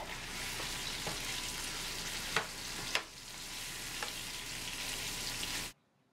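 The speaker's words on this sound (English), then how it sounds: "Once my garlic is brown, go ahead and throw in the pork." Pork hitting hot oil with browned garlic in a pan, giving a steady loud sizzle with a few sharp crackles and scrapes before the sound cuts off abruptly near the end.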